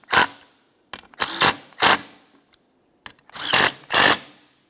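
Bolts being driven in to mount a wiper motor on a 2002-2005 Ford Explorer, several short whirring bursts from a power driver, loud and close, separated by brief pauses.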